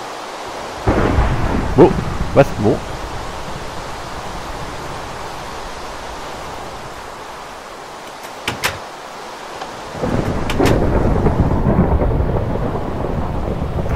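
A Minecraft thunderstorm pours steady rain, broken by deep thunder rumbles that come and go. A voice speaks briefly over the storm.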